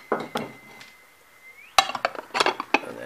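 Metal case slid over a homebuilt vacuum tube VFO, giving a cluster of sharp clinks and rattles in the second half after a quiet stretch, close and fairly loud.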